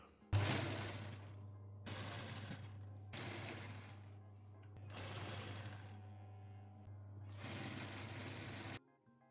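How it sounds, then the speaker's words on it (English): Sewing machine stitching a line along the lining of a men's shirt, close and loud in four running bursts separated by brief pauses, over a constant low motor hum. "So I'm gonna stitch a line just about that width away from the edge."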